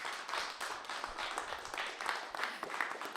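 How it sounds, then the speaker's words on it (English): A small open-mic audience at a community radio venue claps steadily for a performer, a dense, even patter of hands sustained throughout at moderate distance. "big round of applause for Jimi Hendrix"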